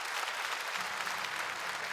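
A large audience claps continuously for a Yue opera judge at a national Yue opera contest final and awards ceremony, a brief, uniform wash of applause without speech.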